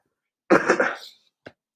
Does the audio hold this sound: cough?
yes